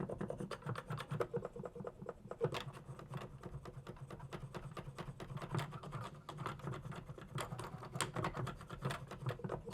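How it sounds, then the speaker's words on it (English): Keys of a Raga harmonium clicking softly as it is played, a dense stream of faint, quick taps and light clacks over a low murmur, close and quiet throughout. "There is always some sound of keys, you know, that's normal."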